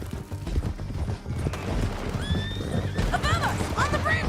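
Horse neighing and whinnying with clip-clopping hooves in the Red Dead Redemption 2 video game, close and fairly loud over a busy background, with a few rising whinny calls near the end.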